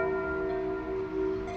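Church bells ring at noon in a German town, a sustained bright metallic tone with layered overtones swelling and holding steadily throughout, moderately loud and without voices.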